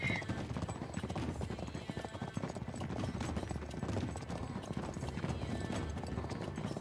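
Horse hooves galloping in the video game Uncharted 3, a fast continuous clip-clop, steady and moderately loud, with faint background noise throughout.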